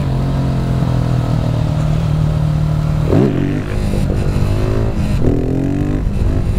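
Volkswagen Golf engine revving under acceleration, a steady drone that dips and climbs again through gear shifts, loud and close from inside the car with no talk.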